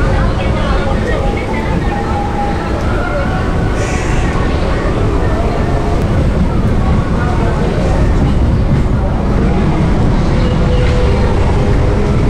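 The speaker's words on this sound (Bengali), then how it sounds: "ট্রেন এখানে হল্ট দিয়ে এবার এগিয়ে চলেছে পাঁচবেড়িয়ার দিকে।" A Sealdah–Gede line local train pulling away from a halt toward Panchberia, a loud continuous rumble and rattle of the moving carriages heard from inside, steady with no pause, while someone speaks over it.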